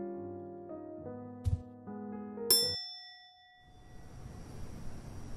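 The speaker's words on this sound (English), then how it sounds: "by interacting with the small service bells" Small service bells in a theater-themed horror video game: a few clear metallic dings, one bright strike ringing out and fading, followed by soft background noise.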